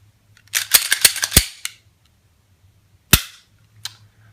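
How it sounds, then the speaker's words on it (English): A subcompact .380 pistol is handled during a safety check: a quick cluster of sharp metallic clacks and snaps from the slide and action, a pause, then one more loud snap and a fainter click, close by with no talk. "So go ahead and safety check this to make sure that we're okay to manipulate the firearm."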